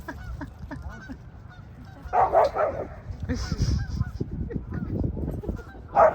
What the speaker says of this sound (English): and then all of a sudden it was nothing but barking.